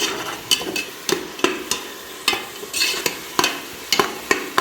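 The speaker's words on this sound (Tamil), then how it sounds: "இஞ்சி பூண்டு வணங்கிக்கிட்டு இருக்கு." Ginger-garlic paste, 25 g ginger and 75 g garlic, frying with small onions in a pan, with repeated sharp spatula scrapes and stirs over a steady close sizzle. No voices.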